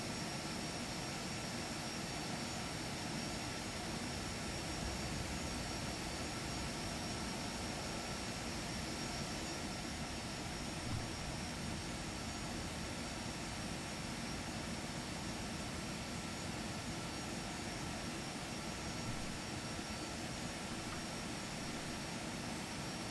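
Steady, even roar of Phenom 300 jet engines in a flight simulator, a broadband hum with a faint high whine holding constant throughout with no talk.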